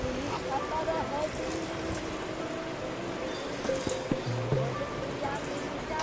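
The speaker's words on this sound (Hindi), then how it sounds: "आप इसे थोड़ा और पानी डालकर" Water is poured into a pot of mutton Amritsari curry on the stove. It trickles and splashes softly over a busy kitchen background, and a person talks throughout.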